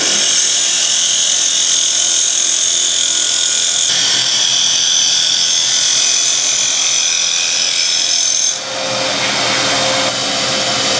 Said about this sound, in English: we'll start by hollowing the inside of the lid